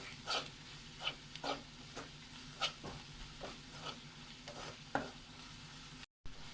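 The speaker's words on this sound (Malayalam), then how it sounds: "വെളിച്ചെണ്ണയിൽ ഇതൊക്കെ മൂപ്പിക്കുമ്പോൾ നല്ല സ്മെല്ലാണ് വരുന്നത്." Spices fry in coconut oil in a pan for a Kerala-style black chickpea curry, a soft sizzle broken by periodic scraping stirs at a slow, irregular rhythm, quiet and close, with a brief dropout near the end.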